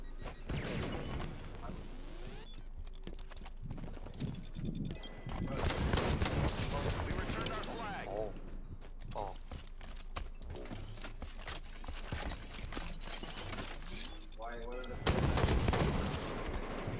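Rapid bursts of gunfire ring out across a Capture the Flag match on the Sandtrap map in Halo 5, with repeated shots and heavy impacts under players talking and shouting over one another.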